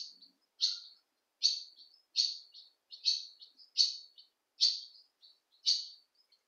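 Birds inside an abandoned building in Selby chirp in a regular series of about eight short, sharp, high calls, fairly faint against otherwise quiet surroundings.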